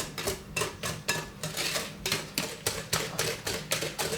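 Soft butter and sugar being beaten together for a sponge cake, a quick steady run of sharp clicking strokes of a utensil against the bowl, close and fairly loud, about three per second.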